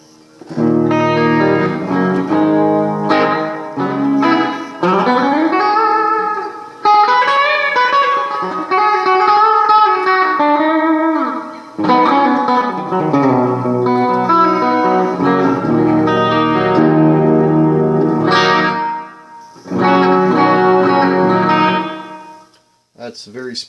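Electric guitar played through a TC Electronic Hall of Fame Mini reverb pedal on a springy spring-style setting, loud sustained notes and chords blooming with a long, wet tail, up close and alone.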